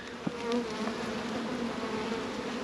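Dense buzzing of honey bees in a hive box full of bees, a close, continuous drone with a steady pitch and no speech over it.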